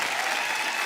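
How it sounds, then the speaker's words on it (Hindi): A studio audience on a Hindi comedy talk show applauds Taapsee Pannu and Tahir Bhasin: a short, dense burst of loud, even clapping that fills the whole moment. "जोरदार तालियां ताहिर और तापसी के लिए"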